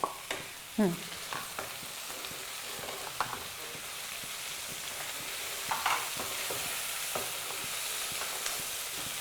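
Tomato tossed into a hot pan of oil with onion and ivy gourd for chutney, sizzling steadily and fairly quietly with a few stirring scrapes and clatters, no talking.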